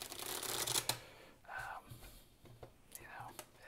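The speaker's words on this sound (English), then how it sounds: "let's do one more shuffle" Playing cards are shuffled and riffled up close in a quiet ASMR setting for a game of solitaire, with a long burst and then softer shorter riffles and faint whispering between them.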